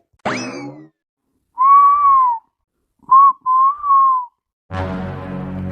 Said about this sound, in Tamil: இவனை ஒருத்தன் பின்னாடி இருந்து விசில் அடிக்கிறானே